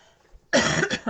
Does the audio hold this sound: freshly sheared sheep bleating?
no